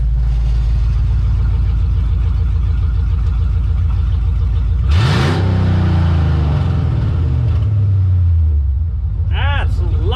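An old workhorse pickup truck's engine runs loud with the exhaust cutouts open, a heavy low rumble throughout, swelling into a deep rev midway, with people talking over it nearby.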